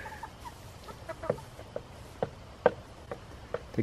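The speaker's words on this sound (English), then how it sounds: "You are a handsome rooster." Rare breed chickens and a rooster cluck softly in a winter coop, a scatter of short, quiet clucks arriving every half second or so, with one sharper call standing out.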